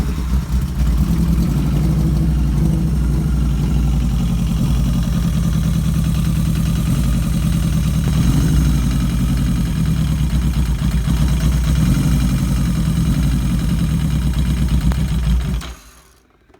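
A Yamaha XJ650 motorcycle engine idles steadily and loudly up close during carburettor tuning, running a little rich with a sticking choke, a constant low rumble that cuts off abruptly near the end.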